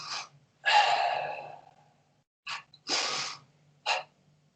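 Deep breaths drawn through the nose and mouth during a karate breathing exercise for the Sanseru kata, several strong rushing inhales and exhales in a slow rhythm, close and loud with no talking.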